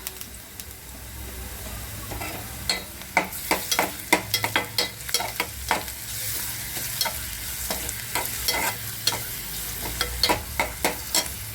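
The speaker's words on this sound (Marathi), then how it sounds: "आपला कांदा भाजत आहे त्यामध्ये आपण लसूण टाकत आहोत" Onion and garlic fry in a pan for a potato bhaji, with a steady oily sizzle under repeated sharp scraping strokes as the mixture is stirred. The sound is close and fairly quiet, with no talking.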